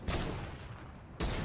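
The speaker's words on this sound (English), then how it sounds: "Oh, I fucking sniped one of them." Two loud, sharp sniper rifle shots in a video game, cracking close by about a second apart, the first trailing off into a short rumbling tail before the second lands.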